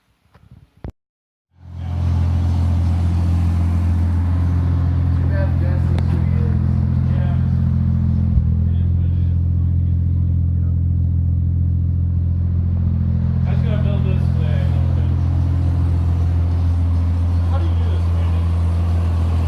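A car engine starts and settles into a steady, even idle, running close and loud for a long stretch with a smooth low drone and no obvious puffing or ticking.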